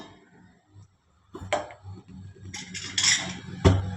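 A metal lid goes onto a pot of village-style egg curry after the flame is turned off, a few close clinks and scrapes of metal on metal with a sharper clank at the end, no talking.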